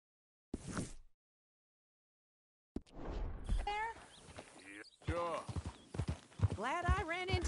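Horse hooves clip-clop at a walking pace in a video game as a rider carries a passenger toward a ranch, a soft rhythmic patter beneath ongoing conversation between two game characters.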